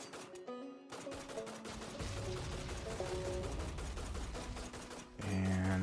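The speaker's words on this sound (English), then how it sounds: "There's gunfire. You can hear all that echoing off in the distance." Distant gunfire and explosions echo through a war-torn setting as a dense, continuous rumble of rattling shots, with a louder burst near the end.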